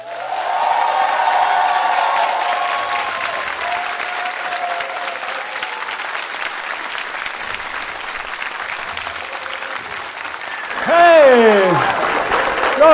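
Loud audience applause for a comedian walking onstage at a Zagreb stand-up show fills the room steadily, with a voice joining near the end over the clapping.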